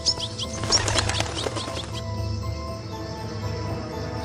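Cartoon forest birds flap their wings in a rapid fluttering burst over the first two seconds alongside faint chirps, then a quieter steady ambience carries on beneath.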